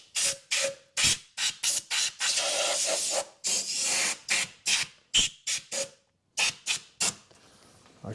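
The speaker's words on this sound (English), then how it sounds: "I've got my airline here. I'm just going to give this a gentle blow." A workshop airline blasts bursts of compressed air around a spark plug well on a 2008 Honda Civic Type R 2.0 petrol engine, a rapid series of short, loud hissing puffs with one longer sustained blow in the middle, then a brief pause.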